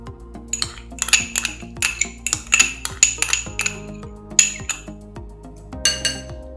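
Ghee gets mixed into coconut cookie batter in a bowl, with a spoon clinking and tapping rhythmically against the dish, about a dozen bright metallic knocks over several seconds, close and loud.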